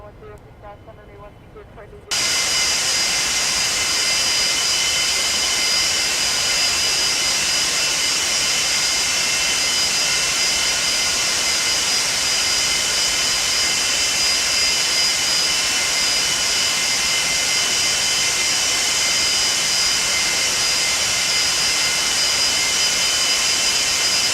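Jet engines of a Boeing 747-200 airliner in the X-Plane 12 flight simulator spool up for takeoff, kicking in abruptly after a short quiet start and then holding a loud, steady, roaring whine to the end.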